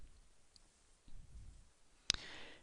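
A single sharp mouse click on an upload icon, crisp and close, standing alone against a faint quiet room background.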